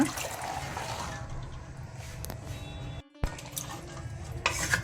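Boiled chickpeas tipped in with their cooking water into a pot of tender jackfruit curry, a steady wet pouring and stirring wash with a brief pause partway through, close and fairly loud.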